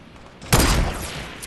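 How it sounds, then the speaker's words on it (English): Rocket launcher fire in the video game Fortnite: a single loud, booming shot with a rushing tail that trails off over about a second, heard on its own. "You just shoot the bottom out with your rockets."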